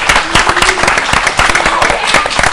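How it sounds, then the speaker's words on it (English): A studio audience claps in a loud, dense burst of applause for a live local TV show, steady rapid clapping filling the whole moment with voices mixed in. "Should they give us some applause? Okay. Applaud us out, guys."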